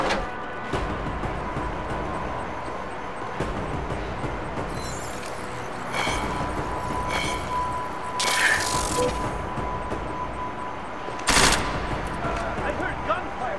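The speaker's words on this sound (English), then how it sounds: "I heard gunfire." Gunfire in the Deus Ex video game: scattered sharp shots and short bursts over a constant background hum, moderately loud and close, with a louder report near the end.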